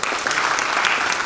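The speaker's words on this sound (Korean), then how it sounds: "수고해주신 두 분 박사님께 감사의 박수 부탁드립니다" An audience at an academic conference applauds two doctors after their presentation. The clapping is brief, loud and dense, with a steady wash of many hands and no voices over it.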